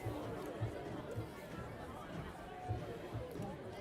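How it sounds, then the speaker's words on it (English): Sideline crowd at a men's varsity rugby match murmurs in a continuous low hubbub of mixed voices, with soft dull thuds recurring every second or so beneath the chatter. "The crowd on the sidelines are getting rather tetchy, waiting for the ball to get back in play"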